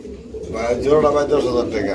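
Soft coos from a breeding pair of pigeons murmur close by, rising and falling over a steady low background, with a voice faintly talking underneath.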